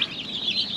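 Chicks on a farm, with rapid high-pitched cheeping running steadily through the brief moment, close and fairly loud, with no voices.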